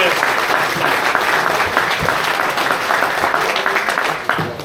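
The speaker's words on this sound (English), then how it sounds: "we give a round of applause" An audience at a St. Jude charity auction gives a round of applause for Charlie, dense and steady clapping that holds for several seconds before thinning at the end.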